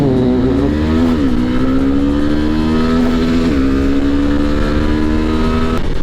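A Suzuki Gixxer SF 249cc single-cylinder motorcycle accelerates hard through the gears, its engine rising in pitch, dropping at each shift and climbing again. It is loud and close, with no speech.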